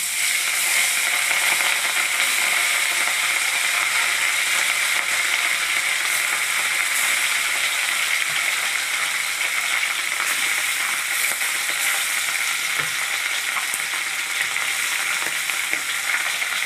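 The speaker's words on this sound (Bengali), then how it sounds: "অল্প অল্প করে মাছ কটা ভেজে নেব।" Pieces of fish fry in hot oil as part of a cumin-paste fish curry, making a loud, dense, steady sizzle that runs unbroken throughout, close by with no talking.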